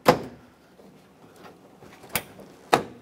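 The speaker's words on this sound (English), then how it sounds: "it should all snap into place and lock in" Plastic parts of an AC condenser on a 2007-2014 Chevrolet Silverado 2500 HD snap into place: three sharp close clicks with short pauses between them.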